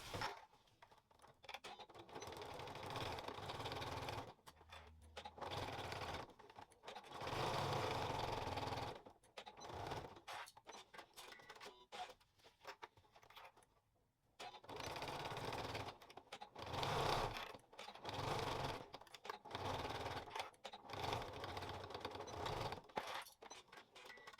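A sewing machine stitches the side seams of a fabric bag, running in repeated short bursts with brief pauses between, loud and close throughout with no talking.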